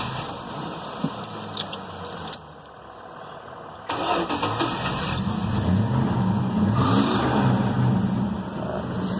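A 1979 Dodge Power Wagon W150 pickup with a new carburetor cranks and fires up, then settles into a steady, loud running rumble with a rough idle and light revving close by, alone with no talk.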